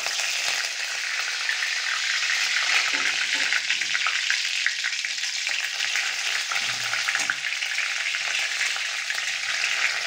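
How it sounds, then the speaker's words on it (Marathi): Curry leaves dropped into hot oil with mustard seeds, giving a loud, dense, continuous crackling sizzle that stays steady throughout at close range, for a paneer masala. "आता कढीपत्ता टाकत आहे"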